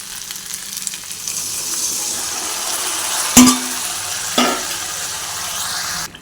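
Taro stolon and prawn curry simmers in a pot after water is added, giving a steady, close bubbling sizzle throughout, broken by two brief utensil clinks near the middle.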